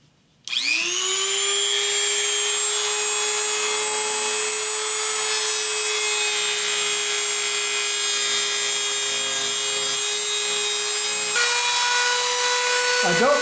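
A Dremel rotary tool trims off a peg on a knife grip, a steady high-pitched whine that starts abruptly, holds constant for several seconds, then shifts slightly in pitch near the end.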